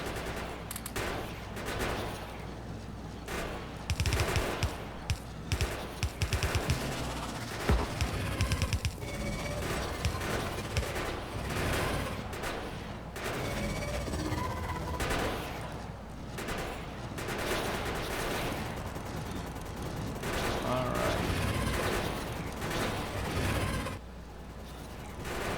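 Gun turrets in Factorio fire at enemies in a dense, continuous rattle of rapid shots that carries on steadily for the whole stretch at moderate loudness.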